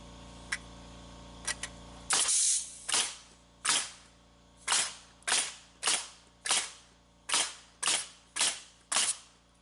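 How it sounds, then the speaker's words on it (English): A pneumatic nail gun drives nails into boards while building a shed addition, with about a dozen sharp, close bangs in a fairly steady rhythm after a few faint clicks at the start. "I'm going to nail them on here with my nailing gun"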